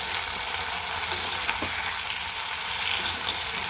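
Vegetable Manchurian mixture with onion and capsicum frying in a pan while being stirred: a continuous moderate sizzle with soft scraping strokes and a faint clink, no talking.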